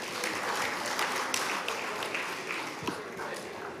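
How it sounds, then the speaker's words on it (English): Sustained audience applause in a parliamentary orientation hall after a national dance troupe's performance, a broad, even clatter of many hands that holds steady throughout. "Let's give them another round of applause."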